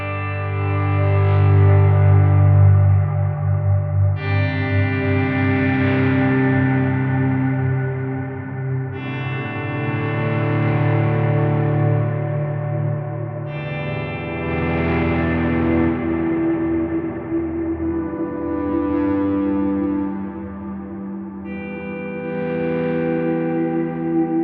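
An electric guitar runs through a Line 6 HX Stomp Double Tank reverb, playing sustained distorted chords with a lush, wide reverb tail and chorus shimmer. Each chord rings for several seconds and fades into the next.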